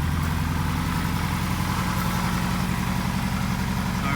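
A Ford Escort RS Turbo Cosworth engine idles steadily after starting, a close, continuous low rumble with an even pulsing throb and no voices.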